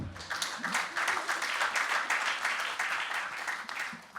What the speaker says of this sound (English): You can clap for me again.